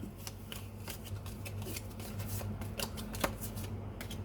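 Tarot cards are shuffled and dealt by hand at close range, a soft steady flutter of card riffles and light slaps with a few sharper snaps, quiet and without talk.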